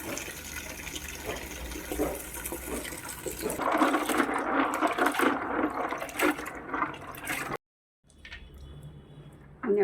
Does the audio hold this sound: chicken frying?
no